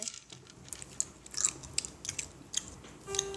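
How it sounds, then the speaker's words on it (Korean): A Harry Potter marshmallow-flavour jelly bean is chewed close to the microphone with soft, irregular munching clicks and small crunches, quiet and alone. "마시멜로 먹어볼게요"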